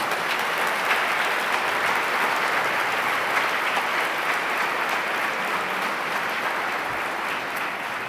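A church congregation applauds together, a sustained, even wash of clapping at moderate volume that carries on for several seconds without talk.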